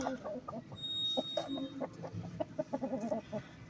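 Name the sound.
hen clucking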